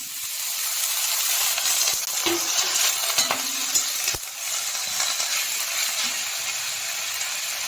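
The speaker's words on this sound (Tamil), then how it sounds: "ஃபர்ஸ்ட் இந்த பீர்க்கங்காய் தோலை நல்லா வதக்கிக்கலாம்." Ridge gourd peel fries in hot sesame oil with a steady, loud sizzle and hiss, broken by a few stirring scrapes and clinks of a spoon against the pan, with no talking.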